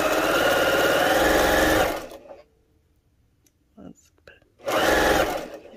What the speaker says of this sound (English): Nobody should ever sew that fast.